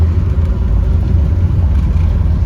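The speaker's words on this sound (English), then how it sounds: "So let's drive down there and see what all's going on." A car drives with a steady low engine rumble and road whir, loud and close throughout without any talking.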